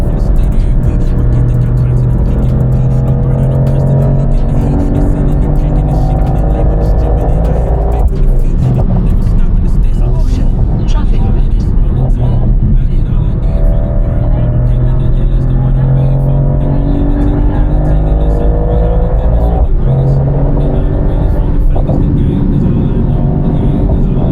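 Mercedes-Benz car driven fast on a track lap, engine roaring loud and continuous with rising and falling revs as it accelerates and shifts, a person speaking over the engine noise.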